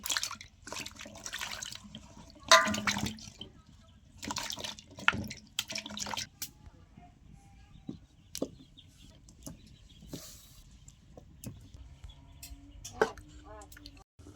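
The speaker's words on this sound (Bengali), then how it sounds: "এবারে আমি রাঙালুটা খুব ভালো করে ধুয়ে সেদ্ধ করতে চাপিয়ে দেব।" Sweet potatoes being washed in water make intermittent splashing and trickling sounds close by, with a chicken clucking in the background and a person speaking at times.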